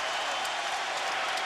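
At a Wisconsin Badgers home basketball game against Illinois, the student section roars in a packed arena, a dense, sustained wash of cheering and clapping with no break.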